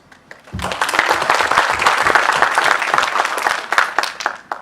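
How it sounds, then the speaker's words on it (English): A conference audience at Drupal Camp Goa breaks into applause that swells quickly after a few scattered claps, holds as dense steady clapping, then thins toward the end. "that deserves a round of applause"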